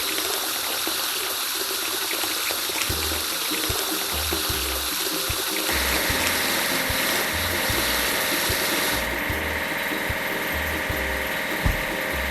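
Water runs steadily over a toy construction vehicle as it is washed clean, a continuous gushing and trickling layered with a low mechanical hum and a rhythmic thumping pulse.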